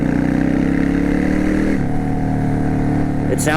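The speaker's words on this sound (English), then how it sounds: "this thing actually sounds pretty good for having just the baffles punched" A Yamaha V Star 650 Classic motorcycle with punched exhaust baffles runs close and loud, a deep, even throbbing rumble whose pitch shifts down partway through and stays steady afterward.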